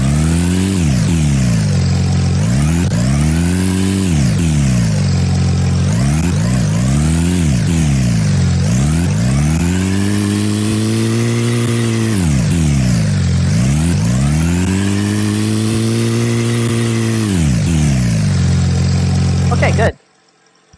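A synthesized car engine sound effect revving repeatedly in first gear, pitch sweeping up and down in steady cycles of rising and falling harmonics, loud and continuous until it cuts off abruptly near the end.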